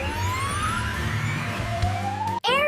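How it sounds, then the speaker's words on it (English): An ambulance siren sweeping up in pitch over a steady low engine rumble, loud and close, with a brief dropout near the end before the wail starts again. "Ambulance."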